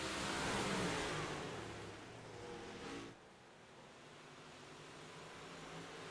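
Modified race cars roar on a green-flag restart, a loud broadband engine wash that swells in the first seconds then eases to a steady, slightly more distant drone.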